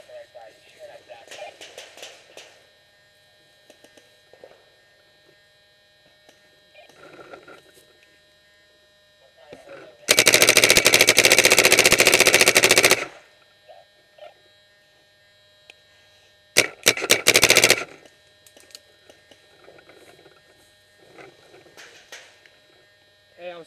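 Machine gun fire in a firefight: two loud sustained bursts, the first about three seconds long and the second shorter, close and harsh, with quiet talk and radio-like hum in between.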